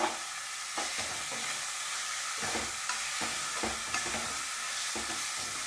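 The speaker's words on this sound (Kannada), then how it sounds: "ಇದನ್ನೆಲ್ಲ ಚೆನ್ನಾಗಿ ಹುರ್ಕೊಳ್ತೀನಿ ಈಗ" Salted onions frying in a pan for a Karnataka-style pulao, a continuous bright sizzle with several soft scraping stirs at regular intervals, close and fairly quiet, no voices.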